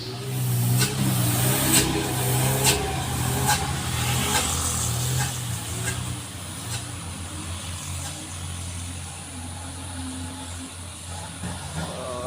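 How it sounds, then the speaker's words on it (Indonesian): A diesel truck carrying iron accelerates up a steep hill, its engine laboring with a deep throbbing drone and rhythmic pulses, loud and near, easing slightly toward the end. "Diesel pembawa besi, langsung digas."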